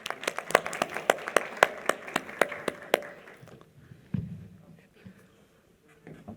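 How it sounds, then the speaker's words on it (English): An audience at a public economics conference claps as Professor Steven Friedman comes on stage, with distinct, evenly spaced claps close by. After about three seconds the clapping stops and only quiet room noise and a few soft thumps remain. "can we please give a warm round of applause to Professor Steven Friedman as he comes on stage together with Thoko"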